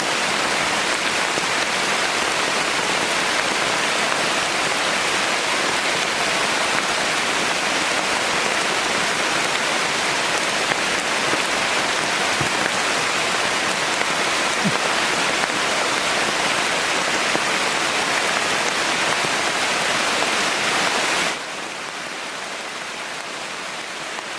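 Big, heavy raindrops pour down on a rainy afternoon at a bird-watching spot in Bo Cha-om, Saraburi, Thailand. The steady, dense roar continues nearby for over twenty seconds, then abruptly drops to a softer patter near the end.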